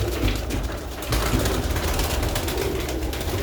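Pigeons kept for sale alongside Sialkoti quails coo amid a dense, steady wash of low, rumbling background noise, the calls blending into a continuous murmur with no voices.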